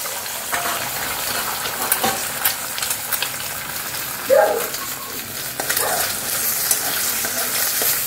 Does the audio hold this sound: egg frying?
yes